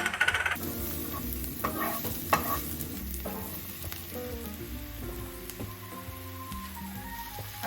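Plenty of onions fry in garlic oil in a pan, giving a busy sizzle with spoon-stirring clatter and a sharp knock near the start, all beneath steady background music.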